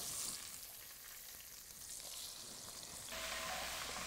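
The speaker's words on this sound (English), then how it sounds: "I'm going to take my yellow onion and go ahead and throw it in there." Yellow onion sizzles in hot rendered beef fat with a soft, continuous hiss that swells louder near the end, with no voices.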